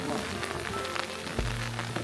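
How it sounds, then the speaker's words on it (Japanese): Steady patter of rain drumming on an umbrella close overhead in a medieval village in southwest France, dense and continuous, with a low hum joining partway through. "傘さしたんでちょっと水の音が増えます"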